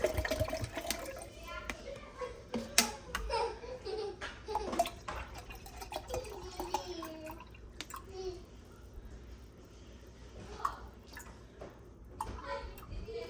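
Water poured into a pot for cooking, 650 grams measured out, splashing and trickling with a clattery kitchen background; a voice and other talk are faintly heard around it.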